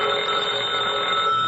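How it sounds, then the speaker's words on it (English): A telephone bell rings as a sound effect in an old-time radio detective drama set in an investigator's office. It is a steady, sustained electric ring, clear and moderately loud, with no speech. "Telephone is ringing at the moment"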